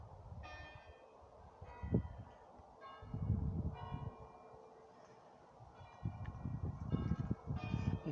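Church bells in Barlborough village ring distantly in a steady repeating peal, faint beneath louder outdoor rumble and passing low noise.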